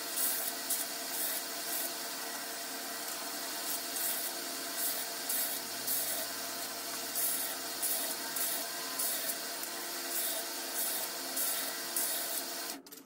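Spacer pieces for a multi-piece knife handle are scuffed on a 60 grit sanding belt, giving a steady, continuous abrasive rasp that runs evenly for the whole stretch at close range.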